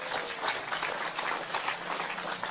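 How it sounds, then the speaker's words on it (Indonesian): Audience applause at a talk gathering, steady crowd clapping heard throughout, fairly soft and distant-sounding. "Tepuk tangan untuk Mas Taufik Ismail sekali lagi"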